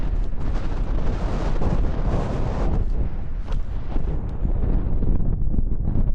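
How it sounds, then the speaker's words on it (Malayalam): Strong wind roars across a mountain ridge near Red Pike and High Stile on a February sunrise hike. The gusts buffet the microphone loudly and continuously for several seconds. "കാറ്റ് കൂടാനായിട്ട് തുടങ്ങിയിട്ടുണ്ട്"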